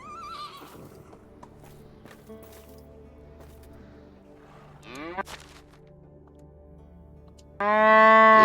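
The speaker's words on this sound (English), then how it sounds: "Alright, so we got us a couple calves now." Young calves on a farm call out in a few loud drawn-out moos and bawls, one short cry early, another midway, and a long loud one at the close, over quiet rustling and hoof steps.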